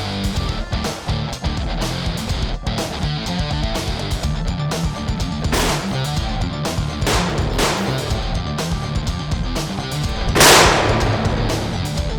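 An FX Cyclone air rifle fires on an outdoor field range, several sharp cracks spaced irregularly over a steady background, the final shot louder and brighter than the rest.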